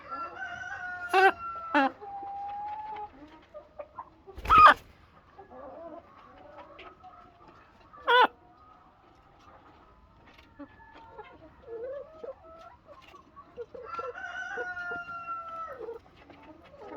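Chickens on a chicken farm cluck and crow in bursts, with a rooster's loud crow and scattered clucks over quiet background murmur, and a person speaks at times.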